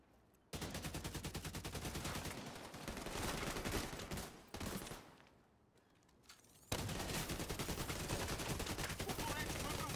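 Rapid automatic gunfire rattles in The Division 2 as sustained bursts of shots, pausing briefly midway before another long volley; faint.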